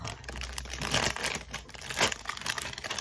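Close, continuous crinkling and tearing of plastic and foil packaging as a Labubu collectible toy blind box is opened from the top, with loud crackling bursts and no voices.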